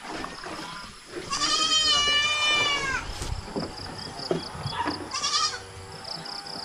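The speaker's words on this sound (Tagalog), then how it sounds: "Yan po ang update natin sa ating mga alagang kambing." Pet goats bleat twice, first a long wavering cry then a shorter one, close by in a quiet outdoor setting.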